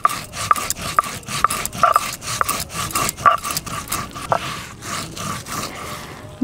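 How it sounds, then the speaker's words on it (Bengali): Whole cumin seeds ground by hand on a stone, with a steady series of rough rubbing and scraping strokes repeating in a close, moderately loud rhythm and no talking. "এবারে আমি মশলাগুলো বেটে নিই। প্রথমে আমি বেটে নেব গোটা জিরে।"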